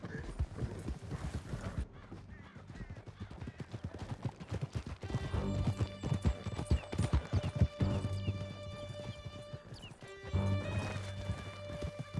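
Horses galloping at speed in Red Dead Redemption, rapid pounding hoofbeats close by with neighs and whinnies among them, loud throughout against a busy rumbling background.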